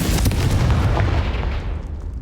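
A Confringo blasting spell explodes against a brazier in Hogwarts Legacy, a dense rumbling boom with a heavy low-end blast that stays loud across the whole moment and decays slowly without any talking.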